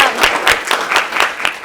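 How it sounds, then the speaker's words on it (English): Applause at a virtual charity gala auction, with distinct, loud, close claps in a quick regular rhythm, about five or six sharp hits over a short burst. "So I'm going to give that warm applause first."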